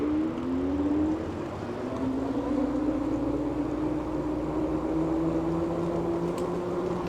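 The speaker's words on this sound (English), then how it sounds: "Just listen to the motor in the rear." Rear hub motor of a Diton Tank300 electric bike running, a steady rising and falling whine that holds throughout over a constant low rumble, close and fairly loud with no talking.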